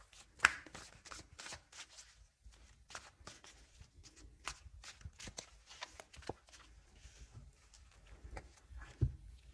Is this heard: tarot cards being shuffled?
yes